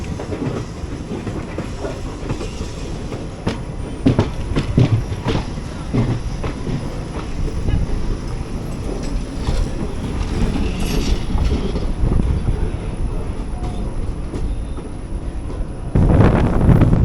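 Onboard the 12677 Ernakulam Intercity Express running from KSR Bengaluru toward Ernakulam Junction: steady loud rumble with rhythmic clickety-clack of wheels over rail joints and occasional wheel squeal, swelling louder near the end.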